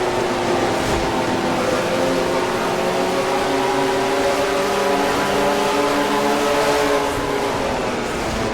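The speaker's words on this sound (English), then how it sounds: "Seth having a hard time getting his car to start back up as he as his slowly dying engine tries to come up to speed" A stock car's failing engine strains to come back up to speed in a racing game, a loud droning whine with wavering pitch that rises slowly and steadily over several seconds.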